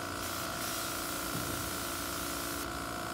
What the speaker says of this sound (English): you can open up the spray too